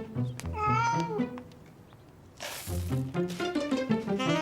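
Cartoon house cat meowing in a few drawn-out, wavering cries, close and fairly loud, followed by a busier, rougher run of meows with no talk over it.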